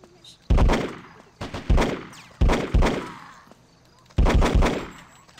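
Gunfire in Hitman 2: Silent Assassin: several loud, close shots in quick pairs and triplets separated by short pauses, each with a booming decay.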